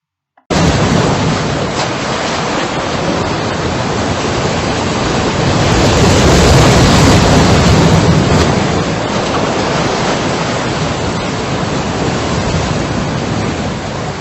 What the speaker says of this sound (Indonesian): Suara tersebut adalah suara ombak yang berderu di pantai.